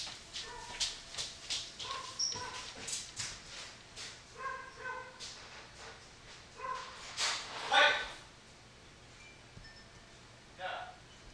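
Several dogs bark repeatedly in a steady, uneven volley, somewhat distant and faint, with yips mixed in and a louder burst near the end.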